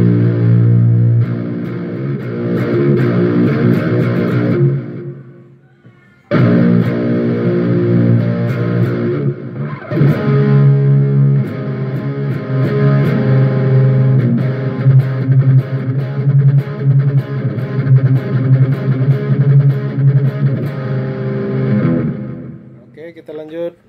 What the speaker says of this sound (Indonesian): Kita coba memakai distorsi.